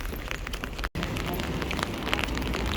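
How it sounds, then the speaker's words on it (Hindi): Heavy rain on a street in Zagreb, a steady dense hiss and patter of drops close by, continuous apart from one brief cut, with no talking. "आज बहुत तेज़ बारिश है"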